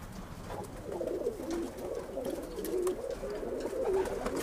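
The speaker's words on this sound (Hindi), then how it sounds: "स्मॉल साइज़ के कल्दुमे कबूतर हैं।" Kalduma pigeons, a small compact breed, coo softly in a repeated, low throaty rhythm, close by, with a steady murmur of background noise throughout.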